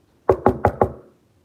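Four quick, sharp knocks in an even rhythm, struck close in front of a hoodoo altar, then silence.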